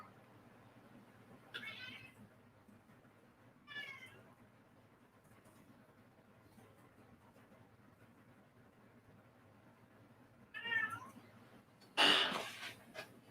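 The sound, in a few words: cat meowing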